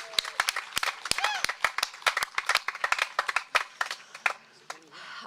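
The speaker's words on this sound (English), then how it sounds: "can I get a big cheer if we're ready to get started?" High school graduation crowd applauding with scattered, uneven claps at close range, a few voices whooping briefly through the clapping before it thins out.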